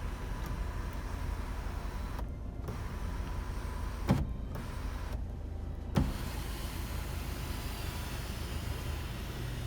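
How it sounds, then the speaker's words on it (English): The electric sunroof of a Tata Safari sliding open, a steady close motor whir running under a low cabin hum with a few brief clicks and pauses as the panel moves. "Huge sun roof on off. And ఒకసారి నేను open చేస్తాను, చూడండి. ఓపెన్ అవుతుంది."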